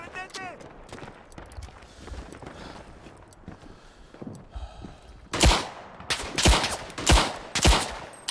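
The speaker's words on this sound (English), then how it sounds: "We have one more shot left. We fire it, reload." Gunfire in the Tannenberg World War I shooter, scattered distant shots and battle noise, then a burst of loud, close reports in quick succession.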